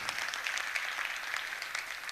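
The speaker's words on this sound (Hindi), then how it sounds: "जोरदार तालियां" Audience clapping at a live music concert, a dense, even wash of applause at fairly low level, steady throughout with no talking over it.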